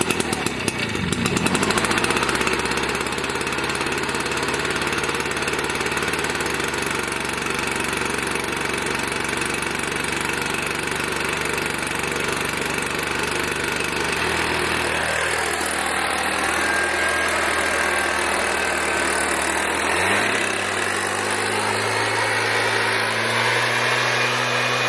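A Stihl BR420 Magnum backpack blower engine runs steadily and loudly close by, its pitch shifting around 15 and 20 seconds as the throttle changes. There is no talking.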